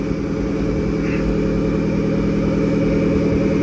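A McLaren 650S Spider tuned to 1000 hp idles with a steady, deep rumbling drone, loud and close, holding an even tone throughout with no revving.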